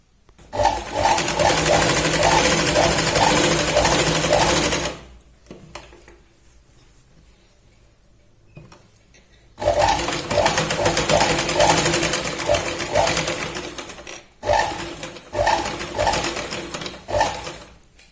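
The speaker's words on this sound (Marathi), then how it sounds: "शोल्डरला आपण बघा थोडंसं तिरकस इथे शिलाई लावणार आहोत" A sewing machine runs in long steady bursts while stitching a slanted shoulder seam on a Punjabi dress cut from a saree, stopping for a few seconds between runs, with a voice talking over it.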